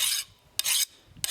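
A file skates across a hardened steel dagger blade in three short, bright rasping strokes with quiet gaps between them. The strokes sound close and fairly soft, with no voices.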